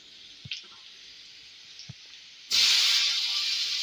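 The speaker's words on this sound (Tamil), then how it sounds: "தக்காளி வெள்ளைப்பூடு இது ரெண்டையும் போட்டோம் இதையும் நல்லா வதக்குறோம்" Tomatoes and garlic hit a hot pan and start to sauté, with a couple of soft drips and clicks first, then a sudden steady loud sizzle and hiss close up.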